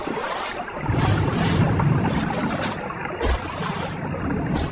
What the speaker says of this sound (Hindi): विराट वापस से नदी पार करने लग जाता है।